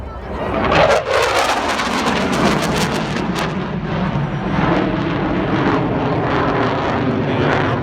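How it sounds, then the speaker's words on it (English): A SAAB Gripen jet fighter accelerates at an air show, a loud continuous roar of engine thrust with a brief dip and sweep near the start, sustained without talk. "Accelerating the aircraft run about 500 knots at this stage."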